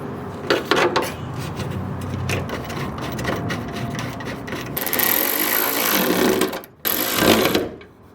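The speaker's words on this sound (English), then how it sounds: "So you just put the little two in there with the riv nut, and then you squeeze." A hand riv nut tool squeezes a threaded insert into a metal bracket for a turbo Subaru BRZ front bumper mount, with clicking, ratcheting metal handling and a sharp crunching squeeze near the end, close and loud.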